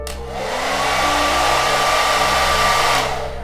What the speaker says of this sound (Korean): 자, 이 헤어드라이기도 키면요.